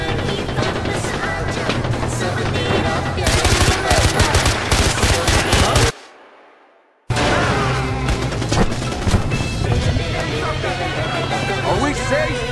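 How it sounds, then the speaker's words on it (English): Dashboard-mounted machine gun in the video game Far Cry 4 firing loud, rapid bursts, then a brief silence before heavy firing resumes. Shouting voices are heard over the gunfire. "There's a gun underneath the dashboard!"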